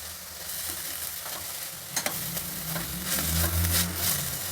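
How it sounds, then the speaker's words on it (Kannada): Amaranth greens fry in a tempering of oil, a soft close sizzle with occasional scraping stirs of a spatulaa and a brief clatter partway through, fairly quiet overall. "ಒಗ್ಗರಣೆಯಲ್ಲಿ ಸೊಪ್ಪು ಹಾಕಿ ಹುರಿದ್ರೆ ಸೊಪ್ಪಿನ ಬಣ್ಣ ಚೆನ್ನಾಗಿ ಹಸಿರು ಬಣ್ಣ ಹಾಗೆ ರೀಟೈನ್ ಆಗುತ್ತೆ"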